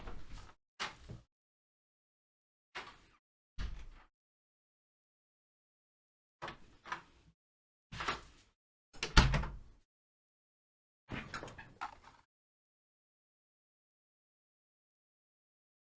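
Doors in a quiet home studio opening and closing, several separate thuds and clunks spread out with silent gaps between them, fairly close and alone without talk.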